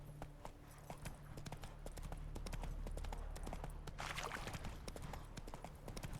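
Roach, Geralt's horse in The Witcher 3, trots in a steady clip-clop of hooves across the whole stretch, close and clear over a low ambient game hum, with no talk.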